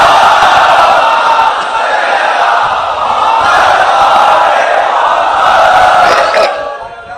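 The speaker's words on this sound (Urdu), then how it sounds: "بھئی ایک صلوات بآواز بلند پڑھ دیا محمد والا" A large crowd at a majlis in Lucknow's Imambara Afzal Mahal chants salawat loudly in unison, a dense, close roar of many voices that holds steady before fading at the end.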